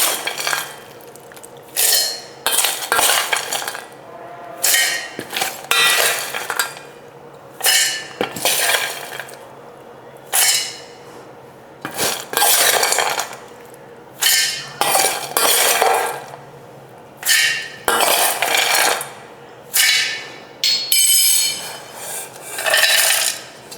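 Roasted nuts clatter and rattle into a mixer jar in repeated bursts of hard clinking and scraping, loud and close in a home kitchen, with short quiet gaps between pours and no talking.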